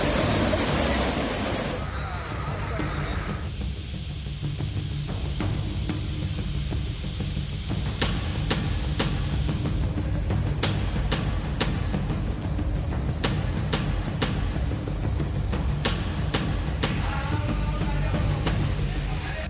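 Floodwater after heavy rain in Junagadh, Gujarat, gives a continuous broadband roar of rushing water, loud and close throughout. Sharp clicks and knocks are scattered across the second half.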